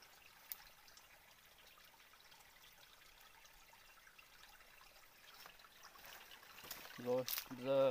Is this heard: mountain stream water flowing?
yes